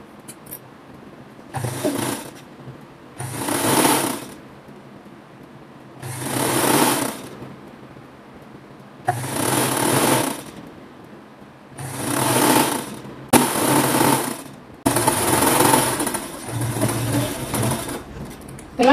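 Sewing machine stitching the center back seam of a printed flared dress, running in about seven separate bursts of steady whirring, each a second or two long with short pauses between, close and fairly loud.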